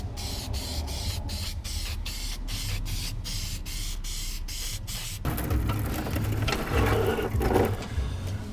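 Oil sprays in short repeated hisses onto a cleaned, dried air filter from a Nissan 350Z, followed by a longer continuous spray. The bursts are close and rhythmic over a constant low background hum, with no talking.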